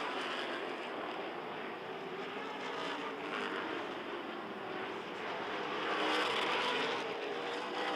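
Race cars roar around an oval short track in a continuous wash of engine noise, swelling as the pack passes, steady and fairly distant with no talk.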